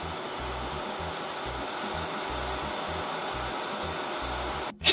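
A hair dryer blows hot air onto homemade slime, a steady, loud whooshing drone that runs unbroken for nearly five seconds before ending with a brief bump.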